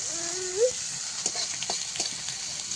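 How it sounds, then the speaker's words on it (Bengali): Bele fish (sand goby) fry in a pan with a steady, close sizzling hiss, scattered pops and crackles, and a brief rising whistle-like tone early on. "আর আরেকদিকে চলছে সেই বেলে মাছ ভাজা"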